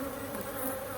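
Honey bees swarm around an open hive during an inspection, a dense, steady buzz close to the microphone with a wavering drone of many wings and no voices.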